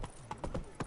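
Roach the horse galloping in The Witcher 3 video game: four or five quick, light clip-clop hoof strikes in a fast rhythm, faint and close.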